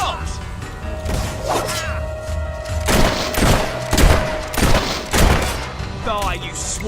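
Gunshots in Fable 3, a burst of sharp, loud cracks fired in quick irregular volleys, several close reports mixed with shouting voices and clashing game sounds.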